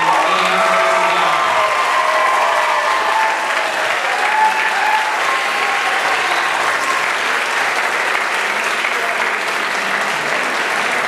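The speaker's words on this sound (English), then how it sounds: "We should have everyone clap for Pat and for Connor because they wrote this amazing script" An audience at an evening performance claps steadily for about eleven seconds, a thick continuous patter of many hands with faint cheering, while a voice speaks briefly over the start.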